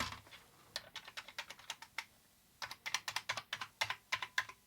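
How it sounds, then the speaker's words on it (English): Someone types on a Commodore C64C keyboard, producing quick, crisp clicks in uneven bursts after a short pause, close and fairly quiet with no talking. "I would say that's a completely working keyboard"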